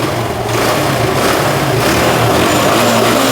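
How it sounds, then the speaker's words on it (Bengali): A 2020 Suzuki Gixxer SF DD motorcycle engine runs steadily close by, a smooth, continuous mid-pitched drone with faint rises in revs and no talking. "বাইকটা কিন্তু স্টার্ট করা হয়েছে, চলুন সাউন্ডটা শোনা যাক।"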